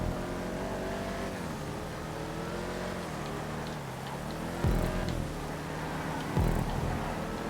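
Clique cars race in GTA 5, with a loud, continuous engine drone whose pitch glides up and down through gear changes and bumps in level as the cars pass close by.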